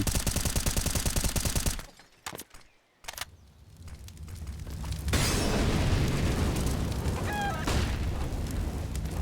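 Grenade blasts and gunfire sound in a Counter-Strike match on the Inferno map: a loud rapid burst at first, then a short quieter gap with sharp booms, then a sustained, roaring wash of game noise.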